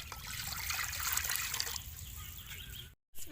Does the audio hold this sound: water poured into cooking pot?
yes